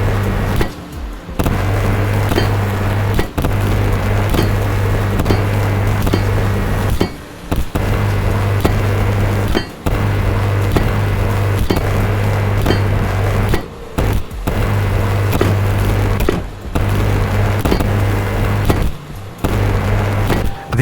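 A welding tool in the space survival building game Stationeers gives off a steady loud electric buzz with a low hum, cut by repeated short gaps as the torch switches on and off, with no talk.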